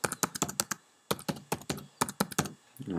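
A password being typed on a computer keyboard while creating a MySQL database user in cPanel: fast, crisp, close keystrokes in quick runs with a brief pause mid-way, loud and alone.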